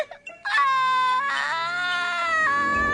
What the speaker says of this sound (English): Stop that idiot crying! God, listen to that!